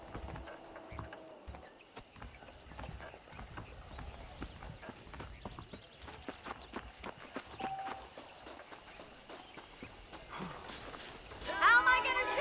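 Saddled horses clip-clop steadily at a walk on a ranch in a western video game, hooves sounding mid-distance beneath spoken dialogue and ambient game sounds, with a brief louder flurry near the end.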